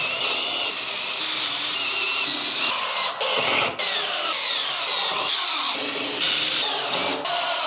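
A power drill with a Harbor Freight brad point bit bores into wood, a loud close whine running almost nonstop with a few brief dips as the trigger is eased.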